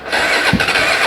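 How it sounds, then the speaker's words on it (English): A budget dual-sport motorcycle engine, running on a new battery, cranks briefly and then catches, heard as a close, loud burst of engine noise in about a second. "And the bike actually fired up."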